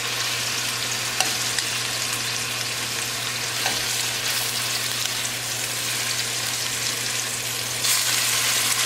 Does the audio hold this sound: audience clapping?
no